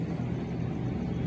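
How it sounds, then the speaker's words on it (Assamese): A steady low engine rumble from a bus driving along, constant and close, with no talking. "এতিয়া বাছেৰে গৈ আছোঁ এয়াৰপৰ্টৰ ভিতৰলৈকে"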